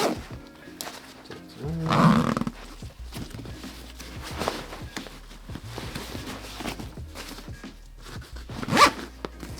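A zipper on a packed bag or case is drawn closed in one strong rasping pull, followed by quieter handling rustles and a second short zip near the end, close and fairly loud with no talking.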